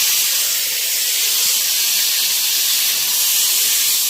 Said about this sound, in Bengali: আমি জল দিয়ে আমি রান্না করতেছি আলু আর চানা দিয়ে।